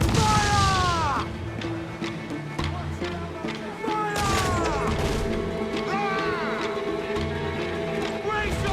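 Ship cannons fire during a naval battle in the video game Assassin's Creed IV Black Flag: heavy booms and crashes at the start and again midway, with whistling shots and a game soundtrack underneath.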